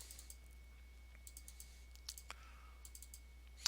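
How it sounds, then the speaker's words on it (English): A computer mouse is clicked during Java programming work, producing a few faint, sharp clicks scattered through a very quiet room. "We then double click on it."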